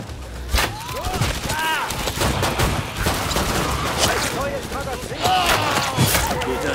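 Rapid bursts of gunfire crack through a busy Killing Floor 2 soundscape in a prison level, with voices talking and shouting over the shots.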